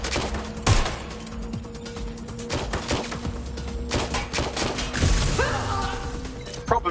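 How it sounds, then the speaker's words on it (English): Gunfire in the open-world hacking game Watch Dogs: Legion, sharp shots and crashes scattered irregularly across the scene, some close and loud, over a constant background hum and game ambience. "Suspect is shooting!"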